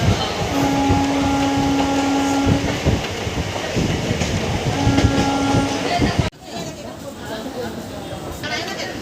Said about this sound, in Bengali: আর আমাদের ট্রেন ছেড়ে দিল সাঁতরাগাছি থেকে